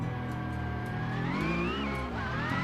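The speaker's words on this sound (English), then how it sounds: "I am unsold on the gear sounds though." Car engine in the BeamNG driving game, a steady revving drone whose pitch climbs, dips at a gear shift and rises again, close and continuous with no talking.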